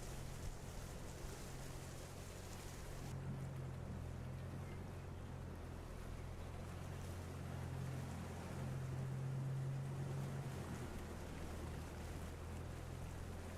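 A canal boat motor in the Farming Simulator 25 video game, heard as a low, steady engine hum with a faint tonal drone under a soft wash of wind and water ambience throughout, no talking.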